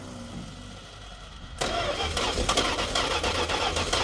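Car engine cranking briefly after a fuel line repair, then catching and running with a rough, fluctuating idle, close and fairly loud.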